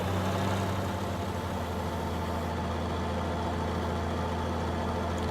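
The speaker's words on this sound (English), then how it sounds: "So let's get the combine going." A combine harvester engine in Farming Simulator 19 runs continuously with a steady, low droning hum and no talk over it.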